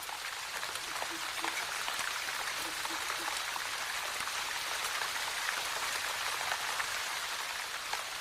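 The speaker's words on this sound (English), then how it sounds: "It rains here for 6 months of the year." Steady monsoon rain falls across a southern Indian hill forest, a dense even hiss of drops striking leaves and ground, constant and enveloping with no pause.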